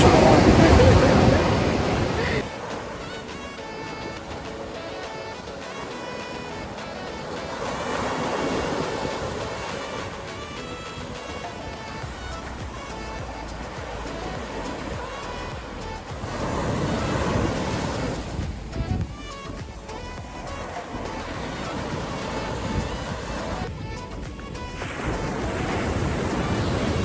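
Ocean surf at Robert Moses State Park on Long Island rolls in as a continuous wash of breaking waves mixed with wind buffeting the microphone, with people talking faintly at times.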